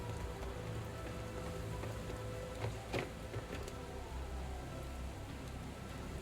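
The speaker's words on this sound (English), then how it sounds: "The rain's even resting on his head." Steady rain falls in the video game The Division 2, a dense, even patter and hiss that holds for the whole stretch with only a couple of brief louder spatters and no talking.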